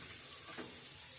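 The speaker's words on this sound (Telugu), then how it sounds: "ఫస్ట్ ప్యాన్ హీట్ చేసుకున్న తర్వాత కొద్దిగా బటర్ వేసుకోవాలి." Butter sizzling and hissing steadily in a heated pan, a soft continuous fry with a brief stir or scrape in the middle, heard alone without talk.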